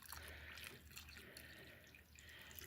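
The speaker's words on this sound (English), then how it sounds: "now we need to cover over with 1 inch of water" Water being poured into a water bath canner to cover sealed jars of homemade apple sauce, a faint, steady trickle and drip close by.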